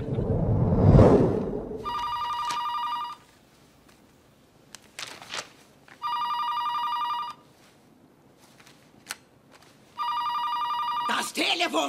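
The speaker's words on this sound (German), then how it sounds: "Das Telefon klingelt" An old-style telephone bell rings in three long bursts separated by pauses, with a few clicks and bumps in between and no talking.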